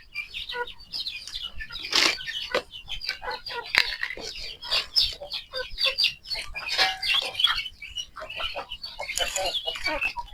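A flock of chicks about forty days old peep and chirp busily at close range, with overlapping calls in bursts and occasional fluttering.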